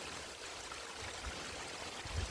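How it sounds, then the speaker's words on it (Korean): Water from a small waterfall in a mountain valley stream pours steadily, a soft continuous rushing wash heard from a short distance with a faint low rumble. "물 떨어지는 소리. 그게 계곡 아래로 쭉 내려가는 거."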